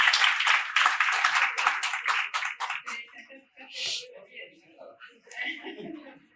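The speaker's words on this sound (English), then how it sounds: "A round of applause for Oscar, please." A burst of clapping from a small crowd fades out after a few seconds, followed by voices talking.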